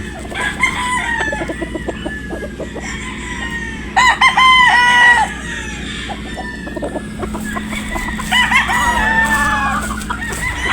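A white straight-combed rooster crows loudly and close twice, with clucking and other fowl calls around it in a farmyard.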